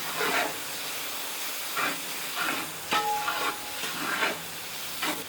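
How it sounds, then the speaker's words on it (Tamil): Coriander and green chilies sautéed in a pan, with a steady close sizzle broken by several bursts of scraping stirring at roughly one-second intervals. "இப்போ இந்த மல்லியை போட்டு வதக்குவோம்."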